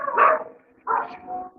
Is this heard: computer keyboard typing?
no